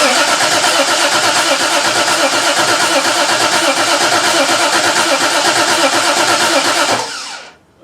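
A 1968 Triumph TR250 engine cranks and starts, a loud, continuous mid-pitched churning run that holds steady for about seven seconds before cutting off abruptly.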